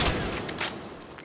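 Rapid automatic weapon fire from a high-capacity gun in Mass Effect 3 on Insanity difficulty at the Citadel, a dense, continuous burst of shots that stays steady and loud for a little over a second.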